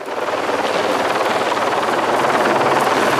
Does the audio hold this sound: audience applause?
no